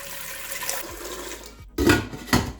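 Tap water runs into a cooking pot, a steady near splashing stream that grows brighter and louder toward the end, with no voices.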